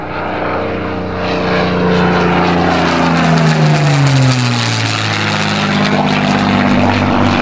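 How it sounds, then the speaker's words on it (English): The Battle of Britain Memorial Spitfire flies past at the Elvington model aircraft show in August 2011, its piston engine droning loudly and dropping in pitch as it passes overhead, with no voices. "Battle of Britain Memorial Spitfire"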